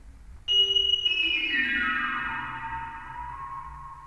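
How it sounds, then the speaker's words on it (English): A synthesized instrument with resonance and reverb, heard as a single sustained piano-like tone that strikes sharply, then glides and rings out with a long reverberant tail, alone and fairly loud. "when using reso and then turning on reverb, it kind of sounds like a piano"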